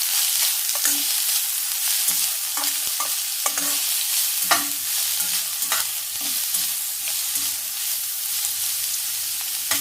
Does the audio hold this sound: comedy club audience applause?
no